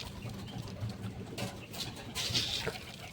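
Pigeons coo softly among a busy flock eating millet and mixed grain, with low murmuring calls and bursts of rustling and fluttering close by.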